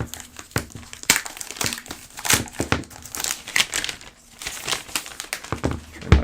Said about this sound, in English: Let's go ahead and unwrap the device itself.